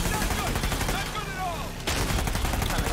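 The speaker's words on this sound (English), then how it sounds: "they give me this automatic gun" An automatic gun fires in the Uncharted 4 video game, with rapid bursts of loud shots, a brief pause, then more sustained fire.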